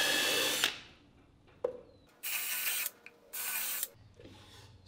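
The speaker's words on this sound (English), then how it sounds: "drill a hole in each space" An electric drill drilling holes into wood whirs in a few short bursts with quiet pauses between them, close and loud.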